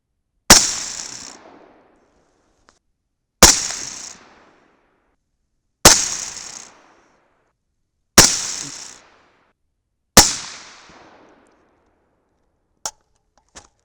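Five loud, evenly spaced shots from a 6.5 Grendel rifle, each with a sharp crack and a decaying ring, followed by faint clicks; the ungreased buffer spring adds a springy twang to each shot.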